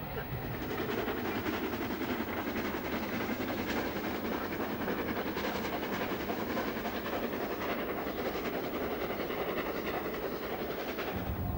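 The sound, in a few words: Flying Scotsman steam train travelling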